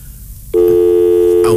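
A steady telephone line tone cuts in abruptly and holds loud and unbroken, heard as a call-in radio show returns to its phone lines.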